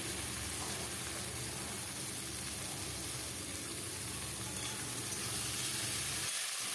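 Boiled, drained banana flower and pre-fried potatoes stir-fry in a pan with a dense, steady sizzle that runs without a break and cuts off just at the end.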